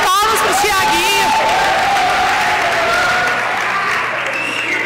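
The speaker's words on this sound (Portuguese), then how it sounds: "Cadê a salva de palmas para o Tiaguinho?" A church congregation bursts into loud, sustained applause during a service, dense clapping mixed with whoops and cheers, while voices carry over the top of the crowd.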